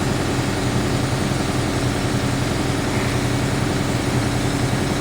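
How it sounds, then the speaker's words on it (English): An air compressor runs steadily in a shop where an AMC Jeep's Carter carburetor is being repaired, a continuous low mechanical drone throughout with no talk. "whoops, got compressor going"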